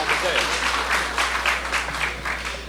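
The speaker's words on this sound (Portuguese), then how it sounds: "Vamos aplaudir Oséias aqui" Audience applause for a guest introduced at a business breakfast networking event, a steady wash of clapping from a room of people lasting the whole moment with a faint voice underneath.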